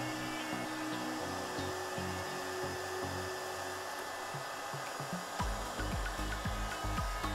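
A hot air tool heats a 386 CPU on a circuit board so it can be pulled off with pliers, giving a constant, steady blowing whoosh throughout with a faint low hum underneath.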